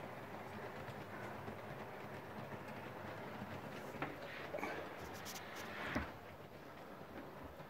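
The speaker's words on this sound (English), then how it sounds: "we'll run the loco and coaches around so that you can see the lighting to better effect" A model locomotive and coaches roll around the track with a steady, faint mechanical whir and rumble, with a few soft clicks near the end.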